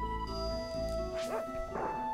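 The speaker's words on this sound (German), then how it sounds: "Oh, der Hund gähnt" In the video game Secret of Evermore, a dog yawns with a short whining, yipping vocal rising and falling over a steady musical background tone.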